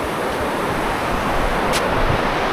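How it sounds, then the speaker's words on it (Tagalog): Steady broadband wash of ocean surf on a Palawan, Philippines coast, with wind noise buffeting the microphone, continuous and fairly loud, no voices. "Wow, ang ganda ng alon nga naman, no?"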